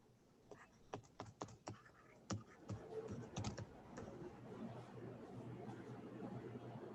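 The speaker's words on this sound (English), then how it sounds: "make sure that you are typing this in the calculator right" Numbers being tapped into a calculator, a quick irregular run of light clicks and taps up close, quiet, with no talking.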